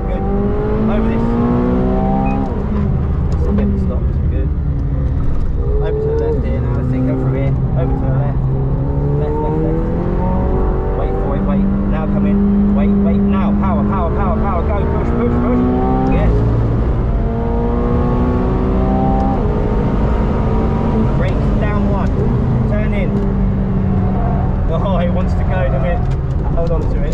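A McLaren 720S engine drones and rises in pitch as it accelerates around the Silverstone racetrack, loud and continuous throughout, with people talking over it from inside the car.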